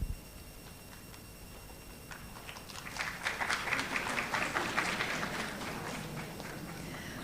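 Audience clapping at a veterinary school white coat ceremony builds up after a quiet start, spreading into a moderate, somewhat distant patter of hands that holds steady before easing slightly.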